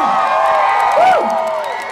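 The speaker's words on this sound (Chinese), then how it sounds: "给一个热烈的掌声" Audience at a charity concert in Penang cheering and applauding, a dense crowd roar with whoops and shouts rising briefly in the middle, loud and continuous.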